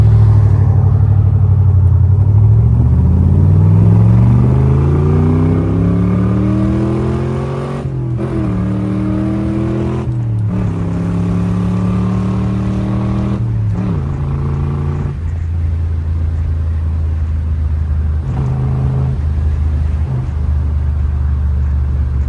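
A 1967 Chevrolet Corvette convertible revs up and accelerates through several gear shifts, its deep roar climbing in pitch with brief dips between gears, loud and close.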